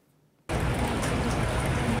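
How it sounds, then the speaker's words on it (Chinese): Heavy rain pours down steadily over a shopping street in Nantou during a convective downpour, a dense, loud roar of water that starts abruptly and runs without a break, with no voices. "寒碧楼滂沱大雨，雨弹狂炸商店街道"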